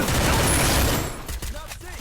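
MP40 and MP5 gunfire in a Free Fire match: a dense, loud burst of rapid shots fills the first second, then stops abruptly and leaves a few faint clicks and mechanical sounds.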